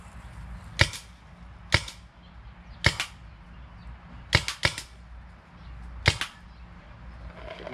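A Tippmann Stormer Elite paintball marker fires six or seven sharp, sudden pops at target practice outdoors, mostly single shots with one quick double, spaced about a second apart.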